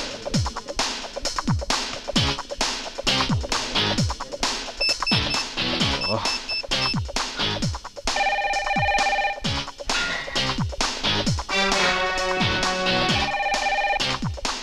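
Telephone rings in a Telugu film scene (Naaga), repeated electronic ringing tones in two stretches over a busy, percussive music score.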